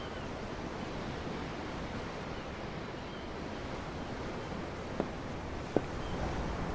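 Ocean waves at sea in the video game Tales of Arise, a soft continuous wash of surf with a faint airy hiss and a couple of small knocks near the end, no speech.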